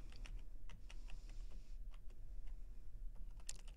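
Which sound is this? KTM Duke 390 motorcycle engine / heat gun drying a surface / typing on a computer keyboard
typing on a computer keyboard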